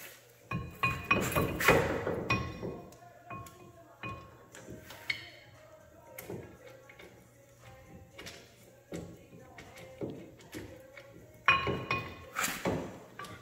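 A brake caliper is fitted and threaded onto a bike during a spoon brake mockup, with repeated close metal clinks, taps and light knocks in irregular bursts, and no talking.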